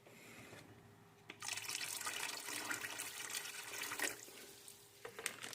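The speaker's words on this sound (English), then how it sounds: "Now we're going to take some distilled white vinegar and pour it in." Distilled white vinegar is poured into a container of water for cleaning pickles, a splashy liquid stream that starts abruptly after a quiet moment, runs unevenly for several seconds and ends with a few closer splashes.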